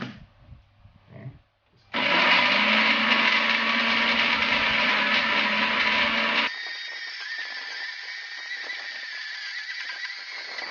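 A kitchen blender whirs through chili paste with cold water for spicy sour mackerel and prawns. The motor starts abruptly and runs loud and steady for several seconds, then drops to a lower, quieter hum.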